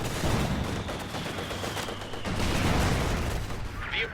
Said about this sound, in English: So you got the barrage going on this squad